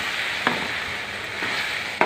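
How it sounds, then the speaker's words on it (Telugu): Halved boiled eggs frying in oil with sliced onions for an egg curry made with milk, a steady sizzle filling the pan while a spoon stirs them, with two or three sharp scrapes against the pan. "ఎగ్స్ కూడా నూనెలో చక్కగా వేగుతాయండి"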